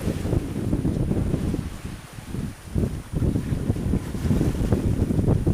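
Wind gusts roar against the microphone while water sloshes around a sailboat moving through waves off Toulon, in loud surging bursts with no talking.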